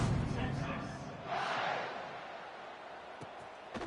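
A stadium crowd in College Football 26 at a Texas Longhorns game keeps up a continuous roar that swells briefly before settling into a steady background murmur.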